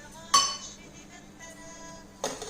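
A metal spoon clinks twice against a pot while sugar is stirred into wheat rava milk kheer, two short bright clinks in otherwise quiet surroundings.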